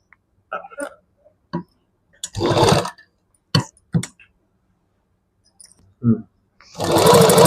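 A domestic sewing machine stitches a blouse lining with the presser foot down, running in two loud, dense bursts of a few seconds each, separated by short mechanical clicks and brief pauses.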